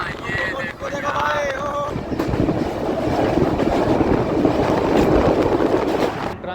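The Grand Trunk Express rolling along, heard from inside a 3rd AC coach: a loud, continuous rumble and rattle of the carriage with some clickety-clack, a voice briefly at the start.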